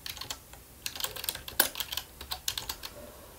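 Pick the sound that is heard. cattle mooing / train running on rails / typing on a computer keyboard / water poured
typing on a computer keyboard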